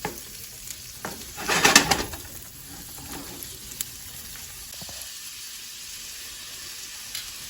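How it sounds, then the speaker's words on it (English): Lobster tails being stirred in butter and seasonings in a pan make a soft, brief sizzle and scrape with a short louder burst early on, then settle into a quiet low simmer. "we're just gonna mix it around, get all the seasonings well incorporated, let that butter get into the lobster"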